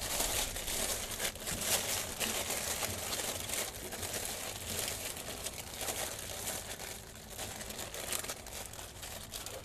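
Continuous crinkling and rustling of a plastic bag being fitted over an excavator oil filter, steady and close, with soft crunchy textures and no speech throughout.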